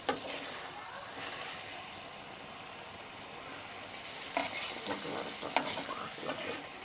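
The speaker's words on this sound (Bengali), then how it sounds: "ঝোলটা একবারে শুকিয়ে নিচ্ছি, ভাজা ভাজা করে একবারে।" Fish curry, a stew of bele fish, sizzles and fries in a pan as it is stirred and dried down, with a steady broadband crackle and a few scraping stirs near the end.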